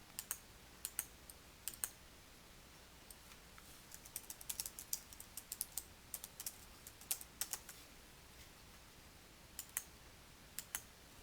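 Keys on a computer keyboard are typed in short irregular bursts of crisp clicks, quiet and close, with brief pauses between clusters.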